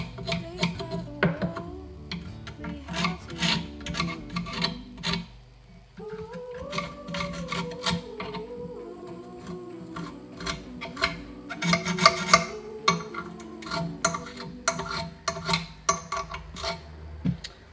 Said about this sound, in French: ce serait de passer avec le tournevis sur les bords ici